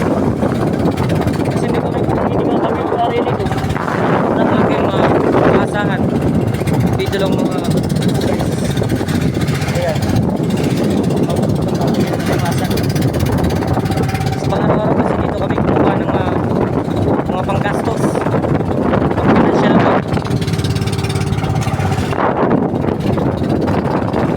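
Strong wind buffets the microphone in a continuous roar over a running boat engine on rough waves during a crab-fishing trip, loud and unbroken, with people talking intermittently.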